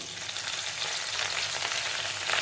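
Mustard seeds, cashew pieces, green chilli and curry leaves fry in hot oil, a continuous close, bright crackling sizzle with no talking.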